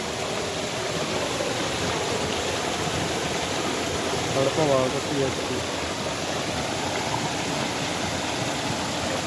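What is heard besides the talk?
small waterfall and flowing stream water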